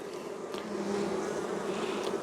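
Honey bees buzz steadily on a hive frame, a dense close-up hum with young bees emerging from their cells, holding even and continuous throughout.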